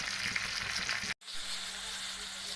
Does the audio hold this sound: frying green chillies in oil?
yes